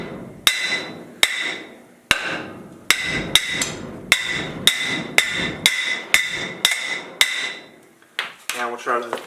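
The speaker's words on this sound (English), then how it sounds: "take a good hammer and just walk around it" A hammer strikes a stuck brake drum on a junkyard truck about a dozen times in a steady rhythm, each blow ringing briefly, loud and close, with a few quicker clanks at the end.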